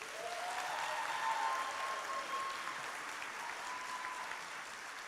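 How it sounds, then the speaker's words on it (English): Steady applause from a graduation ceremony audience honoring public policy students, a continuous moderate wash of clapping for about five seconds with a faint sustained tone near the start. "a round of applause for our public policy"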